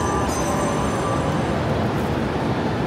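An orange JU line commuter train bound for Ueno and Utsunomiya arrives at a Tokyo station, a loud, steady rumble of wheels and carriages filling the whole stretch with no talk.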